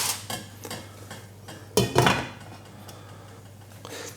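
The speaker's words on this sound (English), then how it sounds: "And then we're going to pop the lid on there." A metal lid clanks down onto a pot of healthy spicy vegetable and lentil casserole in one short, moderately loud clatter, with softer kitchen taps before and after.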